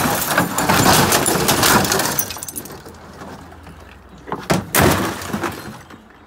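A glass gas bottle smashes with a loud crunching shatter, followed by scattered tinkling shards and a second sharp crash a few seconds later.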